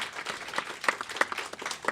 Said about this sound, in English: one more round of applause for all of our panelists